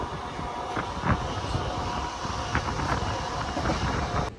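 A moving train, heard from beside the open door, clatters along with a steady rumble, rhythmic wheel knocks and airy rushing wind throughout.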